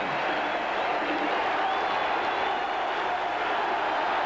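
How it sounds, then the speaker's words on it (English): A 1984 college football stadium crowd at Purdue roars loudly and continuously during an Ohio State game, a dense, unbroken wall of crowd noise. "The crowd again calling out loudly"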